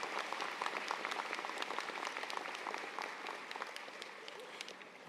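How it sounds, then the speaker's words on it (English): Commencement crowd at an architecture and design school ceremony applauding senior scholars, many hands clapping in a full, steady burst that gradually tapers slightly toward the end. "maybe a collective round of applause for our 4 senior scholars and their contribution to the ceremony"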